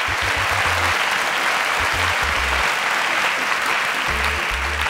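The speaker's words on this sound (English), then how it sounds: "Please a round of applause for Onyekachi." Steady applause from an audience at a STEM challenge event, dense sustained clapping filling the whole stretch without pause, with no talk over it.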